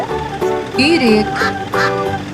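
A domestic duck quacks several times in quick succession, close and loud, with short nasal calls following one another.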